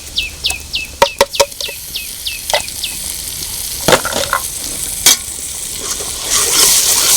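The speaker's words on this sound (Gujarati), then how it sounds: "હલાવતા રહીશું જેથી કરીને મસાલો એકરસ થઈ જાય અને બળે પણ નહીં." Onion masala with tomato puree being stirred in a pan, with sizzling frying and a few sharp spoon scrapes and knocks against the pan, then a louder hiss of cooking toward the end.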